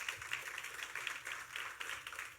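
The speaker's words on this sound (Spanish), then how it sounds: "dale un aplauso al Señor" Church congregation at a Sunday service applauding, a dense, fairly faint patter of many hands clapping that continues without pause.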